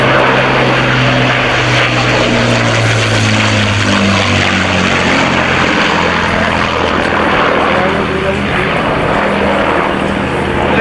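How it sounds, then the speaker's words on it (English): A Hawker Hurricane fighter passes at an airshow, its piston engine giving a loud, steady propeller roar that fills the whole stretch, with a low droning hum shifting in pitch as it flies by. "Once again from our left, the classic shape of the Hawker Hurricane."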